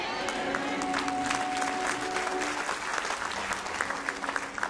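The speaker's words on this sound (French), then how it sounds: "Vu la mollesse de ton acclamation" A church audience claps steadily and fairly softly throughout, the applause spread evenly with a faint voice tone running underneath.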